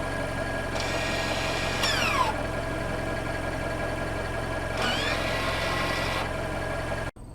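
2021 Toyota RAV4 heard from outside, a steady low engine idle with a constant whirring hum, twice joined by a rising and falling whine, ending abruptly.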